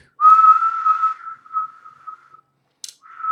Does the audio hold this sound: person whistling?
yes